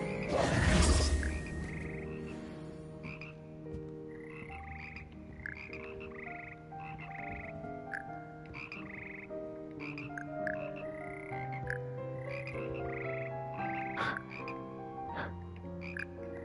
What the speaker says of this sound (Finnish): Siinä sammakot kurnuttaa.